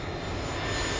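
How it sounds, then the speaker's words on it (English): An aeroplane engine roars in a steady, loud, broadband drone that holds constant for about a second with no other sounds. "Aeroplane"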